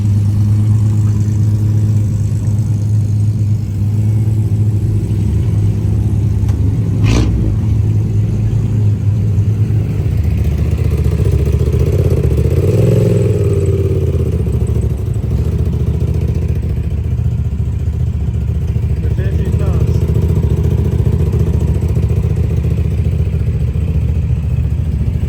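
A rally car on a reconnaissance lap: a continuous mid-pitched engine drone with rising and falling revs and some clatter, loud and close throughout.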